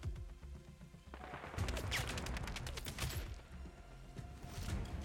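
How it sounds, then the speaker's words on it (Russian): Bursts of rapid gunfire crackle continuously, a fusillade of shots at moderate distance with a compressed, game-like quality, from the video game Sniper Ghost Warrior Contracts 2. "Кто-то рядом выстрелил."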